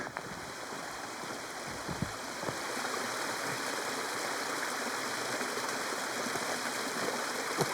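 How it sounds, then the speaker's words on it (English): A steady rushing of Rowdy Creek flowing in the Smoky Mountains, constant and fairly close, with no voices. "up here, I think this is Rowdy Creek"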